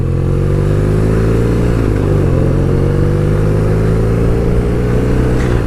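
A BMW R nineT motorcycle pulls away slowly on a wet road, its engine a loud, steady low rumble close by with gently shifting pitch and no talking.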